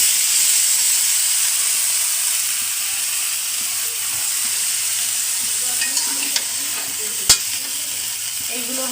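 Cauliflower florets fry in oily, cooked-down spice masala for a light fish curry as they are stirred. A steady close sizzle carries throughout, broken by a few scraping clicks and one sharp knock of the utensil against the pan.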